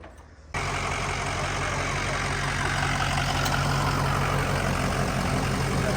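Old Ford tractor engine running after a jump-start, a loud steady rumbling idle that kicks in abruptly after a brief quiet moment and holds evenly, close by with no talking.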